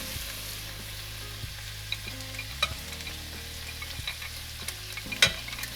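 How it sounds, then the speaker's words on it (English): A whisk works flour into melted butter in a pan for a roux, with a soft, even sizzle beneath scattered light scraping taps from the whisk, fairly quiet and close, with no voices. "Okay, our butter is melted, so we're gonna whisk in our flour."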